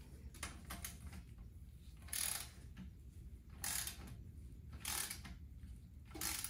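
A torque wrench clicks in a short series of bursts while transmission pan bolts are tightened on a T1N Sprinter's 722.6 transmission, each burst a faint ratcheting rattle spaced about a second or more apart in a quiet workshop.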